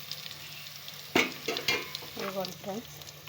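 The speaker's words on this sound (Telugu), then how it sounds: "ఇందులోకి మనం కడిగి పెట్టుకున్న ఎండ్రకాయలు వేసుకుంటున్నాను" Washed crabs tipped into sizzling ginger garlic paste for a crab curry: a sudden loud splash of frying erupts, then settles into crackling sizzle with stirring scrapes, close up.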